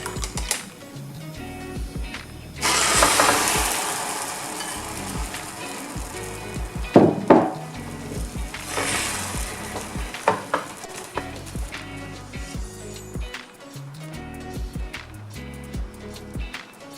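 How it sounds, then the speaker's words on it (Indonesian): Beaten egg frying in a pan while a tamagoyaki is rolled for a Japanese breakfast, a steady close sizzle with soft scraping and tapping of utensils against the pan, with no talking. "Tarik telurnya ke tepi panci dan tambahkan kocokan telur lagi."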